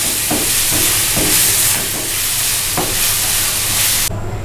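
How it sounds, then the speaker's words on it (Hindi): Crushed ginger and garlic fry in a pan with a steady loud sizzle and hiss, broken by occasional stirring scrapes, with no talking. "जितनी देर में हमारा जिंजर एंड गार्लिक भूनते हैं"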